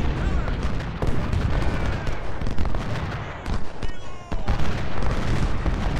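Cannon and artillery fire roar through a Civil War battle in the strategy game Ultimate General: Civil War at Gettysburg, dense repeated booms and volleys of musketry rolling continuously, with someone talking over the din.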